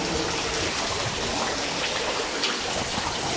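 Steady rain falling outdoors, a dense continuous hiss of drops with no breaks, fairly loud and without speech.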